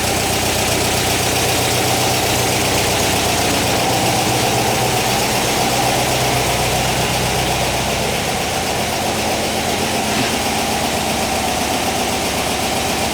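A 1959 VW single cab pickup's air-cooled engine running with its big generator cooling fan, a loud, steady close idle with a dense whirring roar and a low throb that eases slightly near the end.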